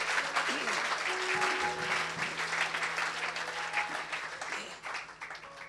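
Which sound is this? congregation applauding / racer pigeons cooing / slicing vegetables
congregation applauding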